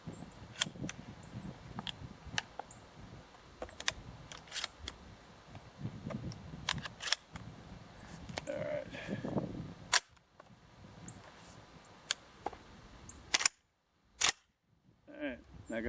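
An ATA CY tactical shotgun fires in a run of sharp, loud reports, each followed by the clack of the action cycling, with pauses and a few louder cracks near the end while someone talks between shots.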